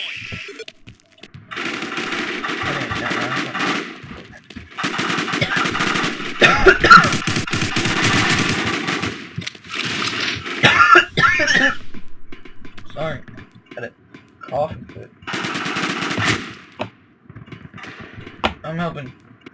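Gun fire in the battle game War Inc Battle Zone comes in bursts of rapid shots broken by short pauses, with mechanical clanks between volleys and a voice talking over parts of it.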